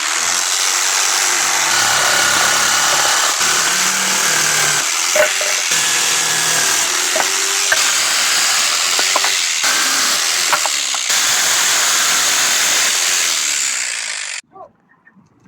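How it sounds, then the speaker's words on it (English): A jigsaw cuts through a thin piece of timber for a folding workbench, a loud steady buzzing drone with slight changes in pitch, ending abruptly in near silence. "I'm just using the jigsaw here because it's a pretty thin piece of timber"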